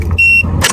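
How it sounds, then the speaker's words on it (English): 2015-2018 Subaru Outback 2.5i started by remote start: a brief electronic beep over a low idle rumble, then a loud burst as the engine catches, close by. "Activate the remote engine start."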